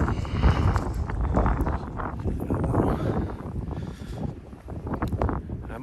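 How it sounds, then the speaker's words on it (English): Wind buffets a microphone during an outdoor walk, a steady, loud, low rumbling roar that rises and falls in gusts with no break for the whole stretch. "I don't know if you can hear me with this wind"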